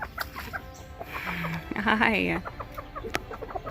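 Chickens cluck and squawk close by in short bursts, with one drawn-out call in the middle; a person briefly says a word.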